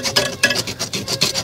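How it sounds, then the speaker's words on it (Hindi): A hacksaw blade cuts through a plastic ECU wiring coupler on a BS6 pickup in repeated, evenly paced rasping strokes, about seven in a row. The strokes are close and fairly loud, with no talk over them. "तो दोस्तों इस आरी के ब्लेड की मदद से हम इसे काटते हैं।"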